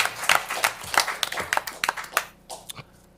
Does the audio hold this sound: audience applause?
yes